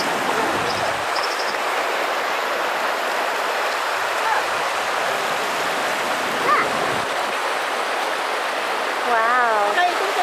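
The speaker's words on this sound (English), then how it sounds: "So I found the waterfall" Waterfall on a river at a US sightseeing spot, a broad, constant rushing roar of falling water that fills the whole scene, with faint voices and a brief higher sound riding above it.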